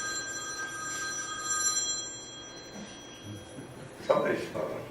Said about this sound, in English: somebody's phone